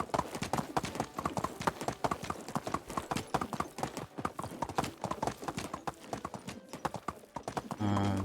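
Horse hooves clip-clopping in the video game Medieval Dynasty, a steady rapid rhythm of close, crisp hoof strikes at a brisk trot, continuing throughout at moderate volume.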